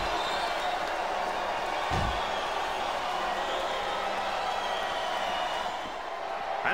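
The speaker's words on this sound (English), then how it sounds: "This capacity crowd is making their opinions known tonight." A capacity arena crowd roars with a steady, dense wash of cheering through a WWE SmackDown! Vs. Raw wrestling match, loud and continuous, with a brief thud near the two-second mark.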